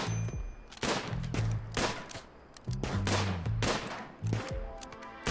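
Rapid bursts of video-game gunfire ring out in a RimWorld battle, with repeated volleys of crackling shots separated by short pauses and the occasional louder hit.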